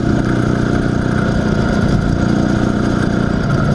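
An IZh Planeta 5 motorcycle engine idles steadily after a crankshaft seal replacement, a loud, close, continuous low mechanical rumble with an even rhythm and no talk.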